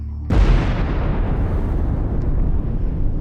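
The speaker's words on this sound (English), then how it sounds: "The detonation shook the earth" Explosives go off with a single sudden, heavy blast, followed by a long, deep, rumbling roar that slowly fades over the next few seconds.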